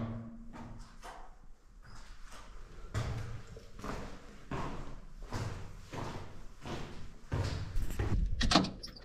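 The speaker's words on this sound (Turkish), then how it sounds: "Kapıyı kilitledi ve kapattı." Door sounds inside an ancient Egyptian pyramid tomb, a run of knocks, thuds and scraping clatter from a door being locked and shut, fairly close and without speech.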